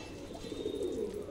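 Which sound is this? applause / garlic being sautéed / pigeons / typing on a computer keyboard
pigeons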